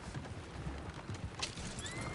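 Horses in the Red Dead Redemption 2 video game, with clopping hooves and a brief whinny amid a busy, dense game soundscape.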